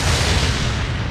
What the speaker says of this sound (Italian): La stella diventa una supernova, la più grande esplosione nell'universo.